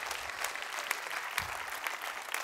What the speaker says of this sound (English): give Jesus a hand clap of praise